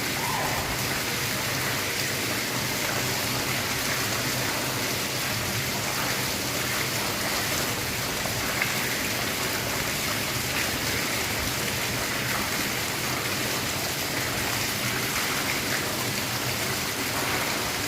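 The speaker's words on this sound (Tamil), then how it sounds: "பாருங்கள் எப்படி வருது தண்ணி." Water gushes continuously from a stainless steel tap in a steady, broad hiss, loud and close, with no pauses or voices.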